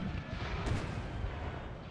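Musket volleys crackle in a Napoleon: Total War battle, rolling distant gunfire bursts layered with a sharper report near the middle, fairly faint and without speech.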